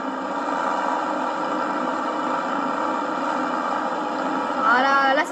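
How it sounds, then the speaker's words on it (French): A tractor mows a field, its engine giving a steady mid-pitched drone throughout, with a brief rising whine near the end. "vous pouvez admirer ce beau tracteur en train de faucher"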